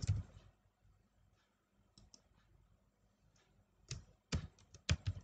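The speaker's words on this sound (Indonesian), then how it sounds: "kita langsung ketikkan di bagian atas" Computer keyboard typing while working in Photoshop, beginning with a short burst of keystrokes, then sparse faint clicks, and ending in several louder, close key presses near the end.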